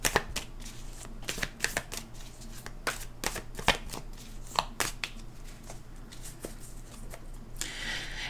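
Playing cards, likely a tarot or oracle deck, are shuffled by hand in repeated crisp riffling bursts and soft slaps, close and irregular, with no talking.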